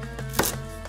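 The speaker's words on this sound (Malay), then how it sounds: "Daun ni Cik Nom potong halus dan asingkan" Knife chopping large-leaf coriander finely on a board, a few crisp close cuts with one louder chop mid-way, no voices.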